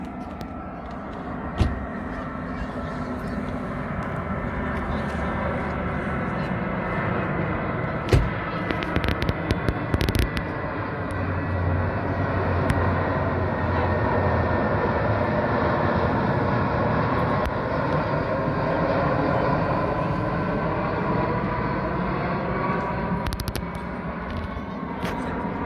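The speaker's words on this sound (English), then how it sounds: "But Here's this plane." A plane flies over near Edinburgh airport at Ingliston at night, a steady broad roar holding for the whole stretch, with a few sharp pops and clicks scattered through it.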